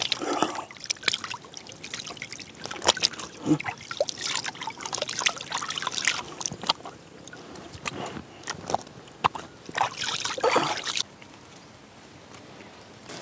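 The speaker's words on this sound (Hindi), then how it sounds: "तो यहाँ से हाथ आकर धोते हैं इसी नहर के पानी से।" Canal water trickles and splashes as hands are washed beside a watermelon field in a village, close irregular splashing with brief pauses.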